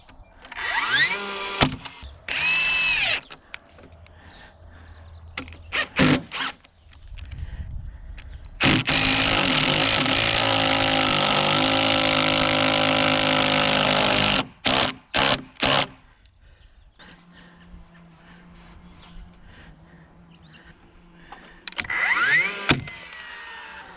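Power drill driving a timber lock screw down into a wooden roof truss in a barn loft, a sustained loud motor whir of several seconds between short bursts of trigger revving and clunky handling noises.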